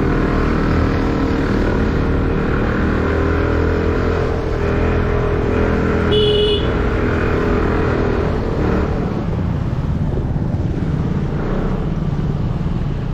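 An Aprilia SR 150 scooter engine labors up a steep, rough hill road in Shillong, Meghalaya, a continuous droning hum that holds loud and steady throughout, with no talking.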